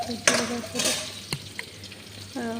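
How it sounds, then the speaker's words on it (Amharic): Soft sizzling of food frying in a pan, with occasional clinks and stirring scrapes and a faint hum in the background. "በጣም እየበሰለ ነው። እየተጠበሰ ነው።"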